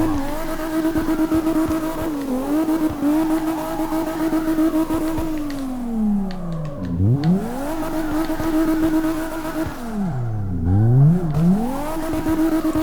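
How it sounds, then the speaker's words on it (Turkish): A modified 900 HP BMW E34 M5 engine in a drift racing video game revs hard and steadily, its pitch sweeping up and down through gear shifts, with two deep dips and climbs, loud and continuous. "Egzoz sesi filan da çok iyi."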